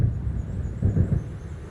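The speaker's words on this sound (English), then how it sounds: "It seems there's a storm coming." Thunder from an approaching storm over the sea in the Alan Wake video game rolls low and heavy, a loud, deep rumble that swells briefly midway.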